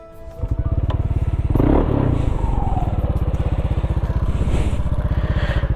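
A Yamaha Aerox 155 scooter with a modified exhaust fires up and settles into a steady, close, throbbing idle with a rapid pulsing beat, fairly loud and running alone without talk.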